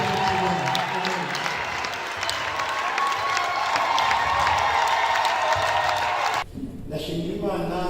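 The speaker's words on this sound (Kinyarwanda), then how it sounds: "Dukomere Imana yacu amashyi" A church congregation claps in praise, producing a dense, sustained burst of applause mixed with cheering and raised voices. The clapping dips briefly near the end before picking up again.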